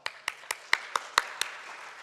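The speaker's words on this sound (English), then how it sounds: "So let's give him a round of applause." Sparse clapping from a small audience applauding a presenter at a food waste solutions showcase, about seven distinct claps in quick succession, faint and fairly distant, without talk.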